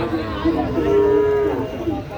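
A single cow lets out a short, drawn-out moo amid a busy outdoor murmur of voices and movement at a cattle market.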